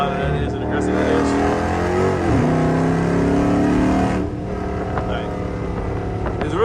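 A Dodge Charger R/T engine revs loud and aggressive under a paddle shift, with a steady roar that drops and climbs again partway through, close and continuous throughout.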